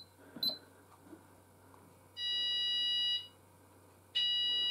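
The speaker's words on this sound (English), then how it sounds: "if I put it onto sound group 2, you should be able to hear the landing sounder" An Apollo XPander fire alarm landing sounder sounds a loud, steady electronic tone in two bursts, about a second long and then restarting, over a low background hum.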